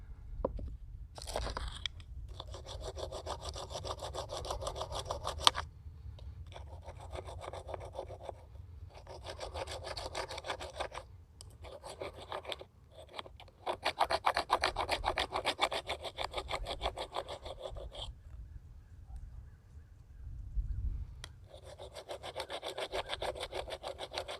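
A flat stone rubbed back and forth along a piece of bone to shape a primitive awl gives close, rhythmic rasping strokes in long runs broken by short pauses.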